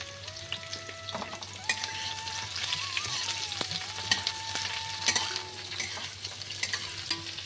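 Ridge gourd and grated coconut frying in a pan for a temple khichuri offering, a steady close sizzle broken by repeated scraping stirs and clicks, with a faint tonal hum underneath and no voices.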